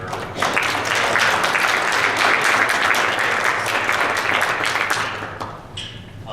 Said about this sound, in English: I think we should all applaud what the Schillings have done